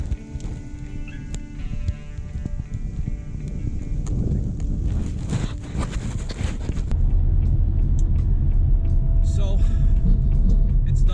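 A car hauling a 1991 Volkswagen Cabriolet rumbles along, with mixed clunks and movement noise at first before settling into a steady low road drone; someone speaks briefly.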